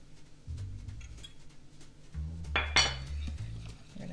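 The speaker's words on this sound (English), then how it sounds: "we're gonna beat that a little bit in here and then add it in there" Egg batter being beaten in a bowl with water mixed in, heard as close clinking and scraping of a utensil against the bowl in uneven bursts, busiest near the middle, with no talk.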